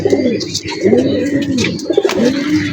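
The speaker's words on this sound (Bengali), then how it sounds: "এটা অনেক পুরান জাতের কবুতর" Cooing of an old traditional breed of domestic pigeon, a female kept indoors: repeated low throaty coos in a steady rhythm, close and fairly loud, with some faint chirps in the background.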